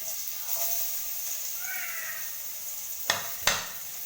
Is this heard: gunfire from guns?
no